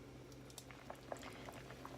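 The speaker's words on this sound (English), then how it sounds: "My pasta has been boiling for about 4 minutes." Spaghetti boiling in a pot of water, a quiet steady bubbling with scattered small pops and gurgles over a low hum, heard close without any talk.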